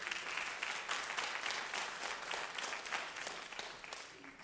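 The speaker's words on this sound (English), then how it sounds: "Let's give them a round of applause." A crowd applauds professionals at an event, a soft, distant wash of many hands clapping steadily for a few seconds, faint and even with no voices over it.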